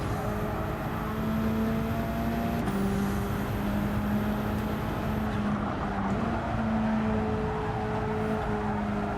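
A race car in the video game Gran Turismo 7 drives flat out on a straight during a daily race, its engine a steady, loud drone that holds an even pitch with a brief dip as it shifts gear.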